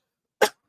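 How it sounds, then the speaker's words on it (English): A single short cough, close and sharp, in otherwise silence. "It's the coughing."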